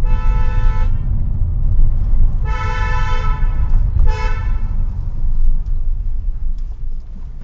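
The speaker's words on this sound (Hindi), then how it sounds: "यहाँ पे हॉर्न बजाएंगे" A car horn honks three times, one long blast then two shorter ones, over a loud rumbling engine and road noise, recorded by a 70mai A810 4K dash camera.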